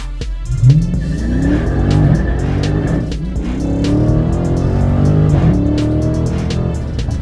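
A sports car engine in track mode revs hard and accelerates, tires squealing and skidding loudly as it slides sideways, close and continuous.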